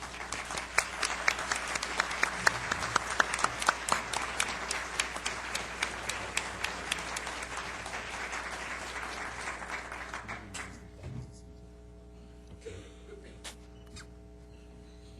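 Conference audience at a health policy summit applauding a keynote speaker, sustained dense clapping that fades out after about ten seconds into room quiet.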